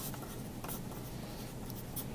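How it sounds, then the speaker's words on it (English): Pen or pencil scratching out a name on the back of a large paper sheet, soft close scribbling strokes in short bursts over a steady room hiss. "you need to put your name on the back of that big sheet of paper"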